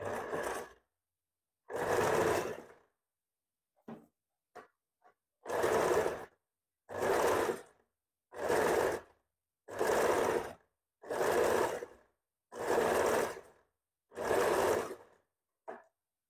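Sewing machine stitching the neckline band of a princess-cut blouse, eight short whirring bursts separated by pauses, close and clear, with no talking.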